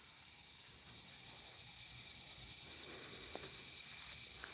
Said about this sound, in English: We have crickets, of course, but those super loud insects, I'm not sure what they are.